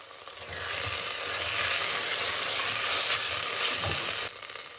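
Tomato paste sauce fries in a pan, a loud, dense sizzle that starts abruptly, holds steady for about four seconds with faint stirring scrapes, then cuts off sharply; no voices.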